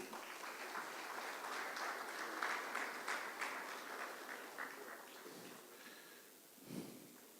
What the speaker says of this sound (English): Can I give him a round of applause, please?